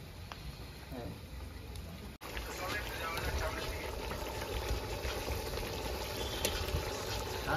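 Meat cooking in a large, wide gabla pot at an outdoor picnic gives off a steady, loud bubbling hiss that carries on throughout, with people talking over it.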